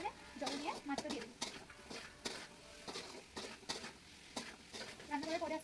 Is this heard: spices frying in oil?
yes